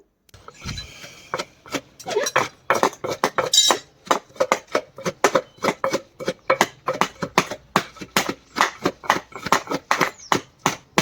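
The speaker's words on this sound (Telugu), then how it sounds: "ఇక్కడ అత్తయ్య అయితే రోట్లో నూరుతున్నారు" Chutney is ground by hand on a traditional stone mortar, producing a rapid series of sharp, clacking knocks and grinding strikes in an uneven rhythm, close and moderately loud with no talking.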